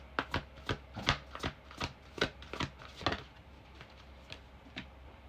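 Tarot cards shuffled by hand to draw a clarifier, a run of about a dozen sharp riffling snaps at an uneven rhythm, close and clear, with no talking.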